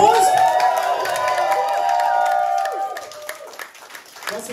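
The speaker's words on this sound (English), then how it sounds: "Can we give them a round of applause?" Loud applause from a crowd at a live show in Moustache Bar, steady clapping mixed with cheers and whoops, tapering slightly toward the end.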